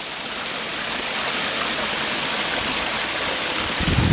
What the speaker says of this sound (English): this lovely bit of flowing water down here